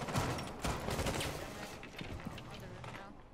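Rapid gunfire in Rainbow Six Siege crackles in dense bursts at the start and thins toward the end, loud and close, with players talking over it.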